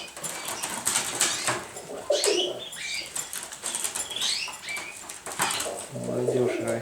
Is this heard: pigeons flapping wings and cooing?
yes